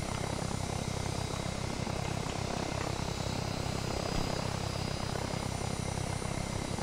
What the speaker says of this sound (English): is he in the plane? Did he jump?